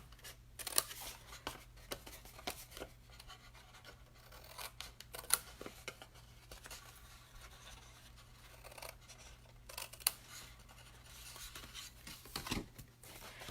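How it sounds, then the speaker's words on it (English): Scissors snip through paper along score lines while making a stationery box base, a quiet, irregular series of short close cuts and rustles with soft handling noise between them. "Now, we're just going to cut up these score lines"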